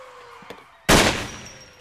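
A gunshot in a film about a school shooting: one sudden, loud, close blast after a quiet stretch, followed by a sustained decaying echo.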